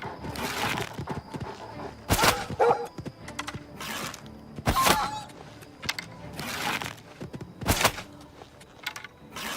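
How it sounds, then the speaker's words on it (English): In the Oblivion Remastered game, a dog barks in repeated sharp bursts, some loud and near, with game ambience between them. "oh, there's a doggy"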